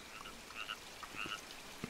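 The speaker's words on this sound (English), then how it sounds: "there's a peep frog in there somewhere" A peep frog in the video game Maquette, sounding a few short, soft chirping peeps scattered over a quiet background.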